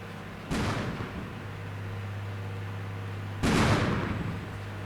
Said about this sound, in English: I think that's artillery that's going down